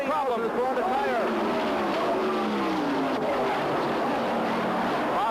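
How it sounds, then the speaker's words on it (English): NASCAR race cars roar past at Talladega as Bobby Allison's car crashes on the front stretch, a loud continuous engine howl with shifting pitch and a grinding, skidding wash, under excited commentary. "Bobby Allison with a horrible crash here on the front stretch"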